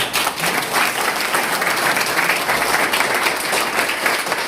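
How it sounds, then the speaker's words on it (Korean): A crowd in a political party meeting room breaks into applause, loud, continuous clapping from many hands that holds steady throughout. "여러분들 맞다라고 하면 박수 한번 쳐주세요"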